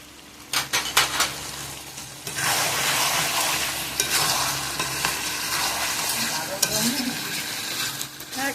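Potatoes sizzle and fry loudly in a pan while a utensil stirs and scrapes against the metal in uneven bursts.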